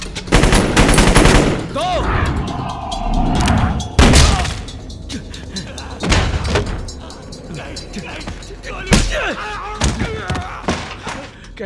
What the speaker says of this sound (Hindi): काफी गोलियां चल रही थी